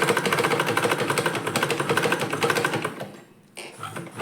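A sewing machine stitching a salwar top runs in a steady, fast rattling hum for several seconds, close and loud, then slows briefly near the end before starting again.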